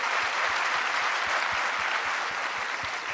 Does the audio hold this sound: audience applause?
yes